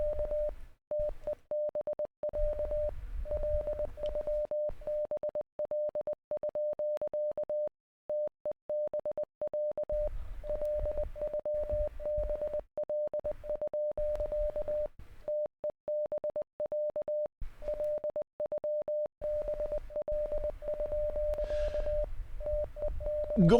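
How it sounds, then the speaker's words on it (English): A steady mid-pitched tone beeps out a repeated Morse code phrase in a radio transmission, with keyed on-off pulses running throughout, intermittent low static and rumble beneath, faint and alone. "The transmission consists of a repeated phrase in Morse code"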